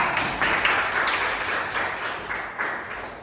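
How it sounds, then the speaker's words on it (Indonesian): A crowd claps in steady, dense applause that holds throughout, fairly loud, with no speech over it. "Tepuk tangan untuk dunia."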